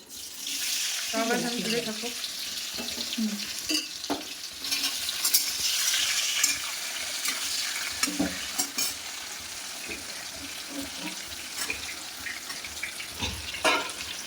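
Potatoes with turmeric and salt fry in oil while being stirred, a continuous close sizzle with scraping and clattering from a utensil and occasional knocks, steady throughout.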